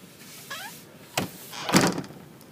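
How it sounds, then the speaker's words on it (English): A loose door panel rattles and knocks in a couple of short, clattering bursts, close by, with faint background noise in between. "Now you're hearing a rattle. What you're hearing is this panel."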